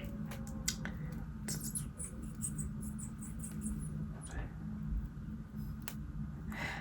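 Scissors snipping off braiding hair, a few sharp close snips and clicks separated by pauses over quiet room noise.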